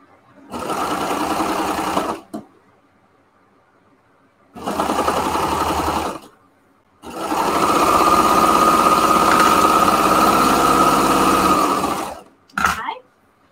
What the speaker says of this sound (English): now I've got my skirt serged up the side